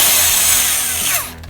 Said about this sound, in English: we're gonna take a smaller drill bit. And we're going to put it into our drill.